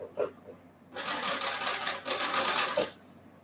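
Sewing machine stitching matched quilt block pieces for a summer sampler block, a brief voice at first, then a steady run of rapid needle clatter for about two seconds with a short pause midway before stopping.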